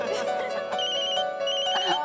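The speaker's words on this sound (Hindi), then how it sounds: "पायल का फोन है।" A mobile phone rings with a bright, melodic electronic ringtone that plays continuously and fairly loud for a couple of seconds, with some other sound mixed in.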